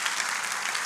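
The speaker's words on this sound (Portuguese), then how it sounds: "palmas para vocês que estão acompanhando a gente de todo lugar do Brasil e do mundo" Audience applause at a Brazilian church service, a brief, dense burst of many hands clapping together, steady and fairly loud for the whole moment.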